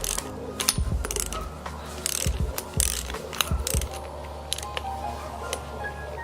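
Hand ratchet on a 10 mm fastener clicking as it spins freely without loosening the bolt, bursts of rapid pawl clicks close up with short pauses between strokes, no talking.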